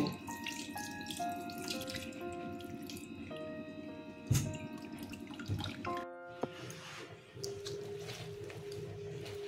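Cold tap water runs into a sink as fresh chhana (paneer) is rinsed, a continuous close splashing stream with a few drips and squishes, no talking.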